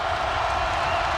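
Dense, steady roar of a basketball arena crowd at an NC State Wolfpack home game against North Carolina, loud and continuous with no break for the whole moment.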